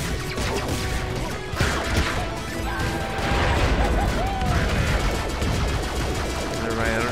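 An airstrike rains down in Angry Birds Transformers, a dense barrage of crashing impacts and rapid explosive bursts layered over busy game effects and music, loud and continuous throughout.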